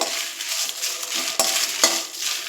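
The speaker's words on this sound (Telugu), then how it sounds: "ఇవి ఎండుమిర్చి కూడా వేపుకోవాలండి, ఆయిల్ అవసరం లేదు" Dry red chillies are roasted in a pan without oil, giving a loud, steady dry hiss with a couple of sharp scraping clicks from the stirring spoon, close up.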